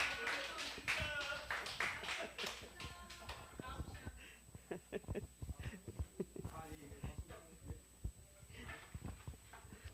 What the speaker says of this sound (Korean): 강의해 주신 우리 스님께 큰 박수 부탁드리겠습니다